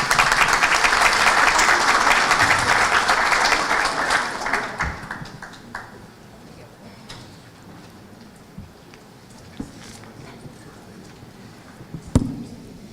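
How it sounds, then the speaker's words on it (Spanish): Conference audience at a national accreditation congress breaks into loud applause that holds for several seconds, then fades into scattered claps, small knocks and a quiet hall. "Fuertes los aplausos."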